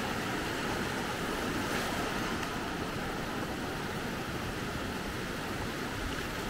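Ocean waves wash onto the beach at Maspalomas on Gran Canaria's south coast, a steady continuous surf roar mixed with wind noise, with no talking.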